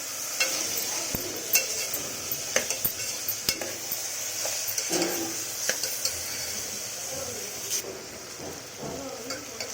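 Asafoetida is stirred into a cooking pot of spiced bisibelabath base, with a low steady sizzle under repeated small clinks and taps of a spoon against the pot, close up with no speech.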